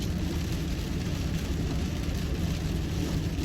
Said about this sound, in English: it's absolutely torrential rain